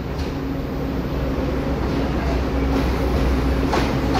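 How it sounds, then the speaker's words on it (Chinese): An EMU electric multiple-unit train rolls into a station, giving a steady loud rumbling roar of wheels and motors that fills the whole stretch without letting up, with no clear talking. "有列车进来。"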